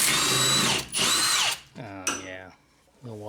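Milwaukee power tool spinning out a rear strut bolt on a Honda Accord, with two loud sustained whirring bursts followed by shorter gear-whine pulses, close up.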